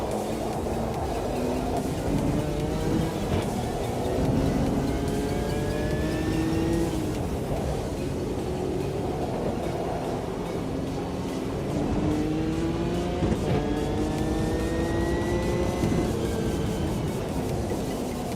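A race car engine in a sim racing game screams at high revs near 160 mph, a steady loud drone with rising pitch sweeps as it shifts through gears and nears a braking zone.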